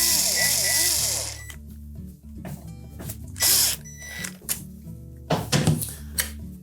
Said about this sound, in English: we'll attach the two screws to secure the control to the fascia